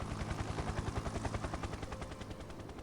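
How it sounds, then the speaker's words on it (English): A helicopter flies in the video game Factorio, a steady rotor chop pulsing rapidly and evenly with a broad engine whine, moderately loud and continuous with no talking. "I noticed the top speed on the helicopter."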